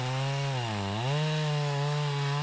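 A chainsaw makes a plunge cut into the trunk of a tree blown down over a greenhouse, a loud, steady, close engine whine that dips briefly in pitch under load and then recovers, with no talk.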